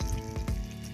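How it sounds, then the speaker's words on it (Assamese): Eggplant (brinjal) slices frying in a pan, a brief steady sizzle and crackle close by with no voices. "এইফালে বেঙেনা ফ্ৰাই কৰি আছোঁ"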